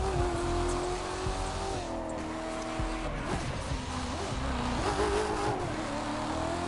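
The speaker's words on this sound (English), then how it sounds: "Much more fantastic to see that DeLorean drift like a true professional" A DeLorean drifts in The Crew 2 video game, its engine droning with shifting pitch while tires squeal and skid through turns, a continuous moderately loud racing roar.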